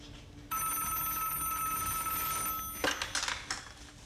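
A telephone bell rings loudly in an indoor scene, a sustained electric ring that cuts off abruptly before a few brief clicks and handling noises.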